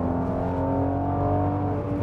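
Mercedes-AMG GLC 43 engine running with a steady, close, droning exhaust note that holds a firm pitch throughout; no separate crackles or pops stand out.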